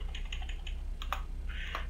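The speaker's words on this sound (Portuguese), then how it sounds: "Vocês vão ouvir um barulho de tecla aí agora." A handful of quick computer keyboard key presses click faintly and irregularly over a low background hum while playing GTA 5 roleplay.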